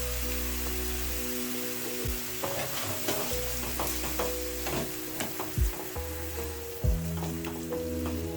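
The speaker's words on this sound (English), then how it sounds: "it's at this point I'll go in with my coconut cream" Chicken curry sizzles steadily in the pan while coconut cream is stirred in, with scraping spoon strokes and bubbling crackle layered over a constant frying hiss and low hum.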